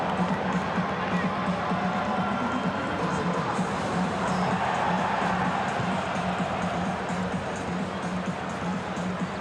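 Large stadium crowd at a Canada vs Guadeloupe Gold Cup soccer match in Toronto reacting to a goal, a loud sustained roar and murmur filling the stands without a break.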